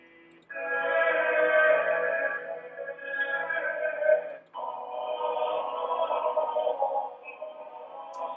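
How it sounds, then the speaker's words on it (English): A medieval 12th-century polyphonic choir holds long sustained chords, several voices blending in two broad phrases with a brief break between, sounding slightly thin as if played back in a lecture hall. "So you can hear from this that there are several voices singing and they're making chords"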